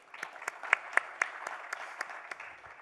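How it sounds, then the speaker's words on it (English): An audience at a design talk gives a few faint, scattered claps, roughly evenly spaced and soft, with no voices over them. "Let's have an applause."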